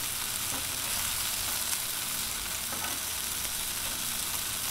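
Chicken wings sizzle on a 22-inch Blackstone griddle, a continuous hissing crackle heard close up and steady in loudness, with faint scraping taps from a spatula and no talking.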